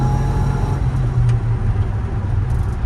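A 1959 Chevrolet Apache Fleetside pickup truck drives with a steady, loud engine drone, its three-speed transmission shifting smoothly and the engine note dipping briefly between gears.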